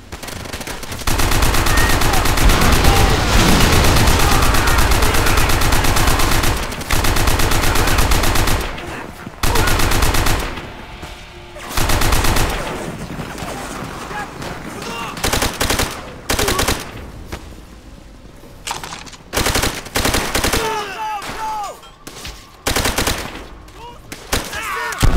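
Machine gun fire in the World War II shooter game Call of Duty: World at War, loud sustained automatic bursts with a few pauses, then a thinner spread of scattered shots and battle noise.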